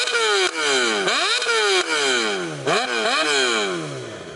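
A Suzuki GSX-R600 motorcycle with a new aftermarket exhaust revs hard several times in quick succession, the loud exhaust rising and falling in pitch with each blip of the throttle, close by.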